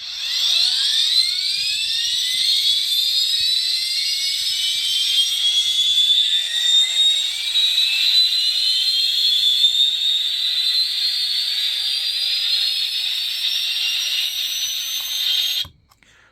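A shrill electronic whine from a Starling Technologies sound system, played through small speakers built into a studio-scale Spindrift model ship, rises in pitch and holds steady and loud for about fifteen seconds before cutting off.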